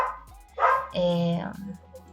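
A neighbours' dog barks nearby, a couple of yelping barks with a drawn-out whining tone, heard amid indoor room noise.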